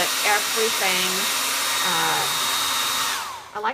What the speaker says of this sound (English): a blow dryer can help and can definitely speed up the process